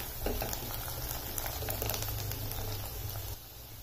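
Garlic and coriander fry in hot oil, giving a steady close crackle and bubbling sizzle that runs evenly throughout, then softens slightly near the end.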